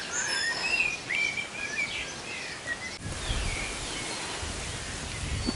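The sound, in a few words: birds singing near a village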